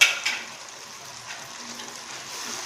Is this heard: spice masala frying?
yes